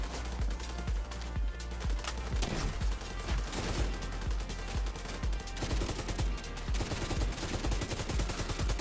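Rapid sustained LMG machine gun fire from the Stoner weapon in The Division 2, a dense continuous stream of loud shots with echoing impacts running the whole time, no talking.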